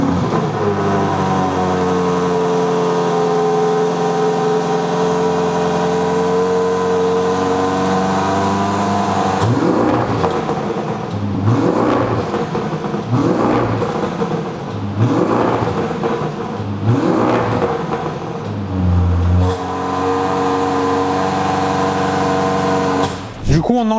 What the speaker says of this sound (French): Maintenant, je vous le fais écouter avec l'échappement IPE.